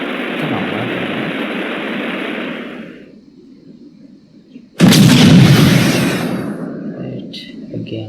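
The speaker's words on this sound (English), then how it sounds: "throw it, you can get a small grenade" Grenade blast in an Unreal Engine 5 game, one sudden loud explosion with a rumbling tail following a fading noisy rush and a brief lull, close and prominent.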